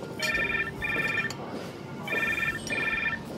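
A telephone rings in a room during a tense domestic drama, two bursts of trilling electronic ring separated by a pause, fairly close and clear over a soft background hum.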